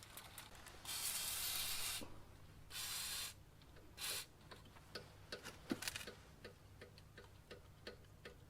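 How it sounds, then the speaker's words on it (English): WD-40 sprayed into a bicycle hub in a few close hissing bursts, one long and two shorter, followed by quiet ticking and clicking of the hub and parts. "Let's squirt in some WD-40."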